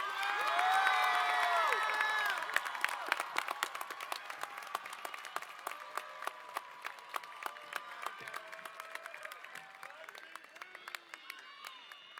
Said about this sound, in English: Wait, one more round of applause.